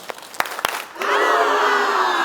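A live audience claps a few times in quick, uneven beats, then swells into a loud, sustained group vocal chant that carries to the end.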